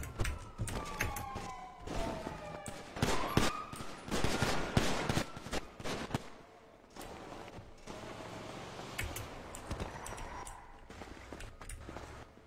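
Rapid bursts of gunfire in the video game GTA V, with repeated sharp shots and volleys, fairly faint and dense at first, then sparser shots over a lower background.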